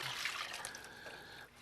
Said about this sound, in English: When it comes to the simmer, then add more water.